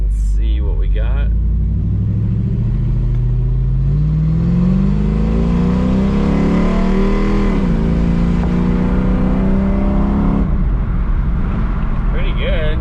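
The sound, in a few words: Dodge Magnum V8 accelerating with bored-out throttle body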